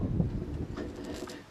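Wind blowing outdoors at a street theatre festival, a steady low rumbling buffet against the microphone with gusty swells, no clear voices.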